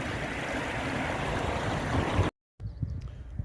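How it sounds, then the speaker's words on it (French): A small stream runs across a road and empties into a small pond, giving a steady broadband rush of flowing water. The sound cuts out abruptly for a moment, then comes back quieter. "Un petit ruisseau qui traverse la route et qui se jette dans un petit étang."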